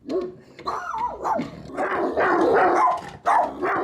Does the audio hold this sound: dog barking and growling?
yes